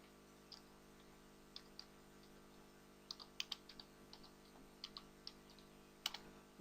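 Someone types on a computer keyboard in irregular bursts of soft, close key clicks over a quiet steady hum, with no talking.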